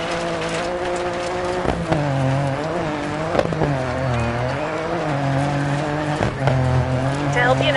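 A rally car in the video game Dirt 4 drives hard through corners, its engine revving and dropping between gear changes, with tire squeal on the turns and a voice talking over it.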